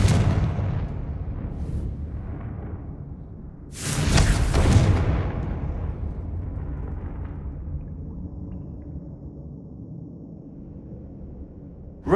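A single loud Confringo blasting-spell explosion in the Hogwarts Legacy video game on PS5, a burst lasting about a second with a rumbling game ambience before and after.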